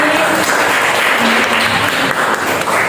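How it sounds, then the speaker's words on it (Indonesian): A classroom of students applauds a classmate named Beatrice during a school lesson, steady dense clapping filling the whole stretch at an even, close level. "Tepuk tangan dong buat Beatrice"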